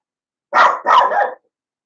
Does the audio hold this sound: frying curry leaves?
no